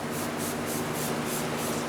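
Short rhythmic hisses of cleaner sprayed onto a dirty car engine bay, about seven evenly spaced bursts over a steady background, close and fairly quiet.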